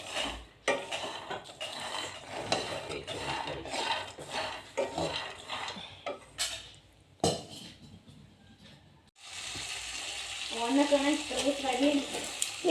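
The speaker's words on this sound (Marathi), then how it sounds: "शेंगदाणा भाजून घेते थोडंसं" Peanuts roast in a dry pan, with rattling, scraping stirs and shuffling that pause briefly before a rising sizzle near the end; fairly quiet overall.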